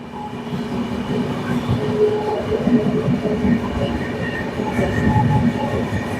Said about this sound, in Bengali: আমাদের ট্রেন এখন চলে এসেছে কেলামাঙ্গালাম স্টেশনের কাছে